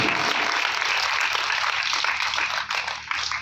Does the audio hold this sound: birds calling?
no